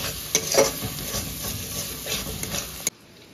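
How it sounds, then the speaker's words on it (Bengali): Spices and ginger-garlic paste stir-fried for mutton keema, a continuous broadband sizzle with repeated spatula scrapes against the pan, close and steady until it cuts off abruptly near the end, without speech. "এবারে মশলাগুলোকে কিন্তু ভালো মতন করে কষবো।"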